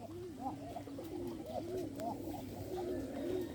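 Pigeons coo in repeated soft rolling phrases, several overlapping calls in a steady rhythm over a low background hum, heard close by in a loft.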